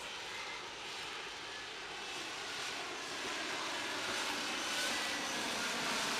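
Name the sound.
F-35B stealth fighter jet engine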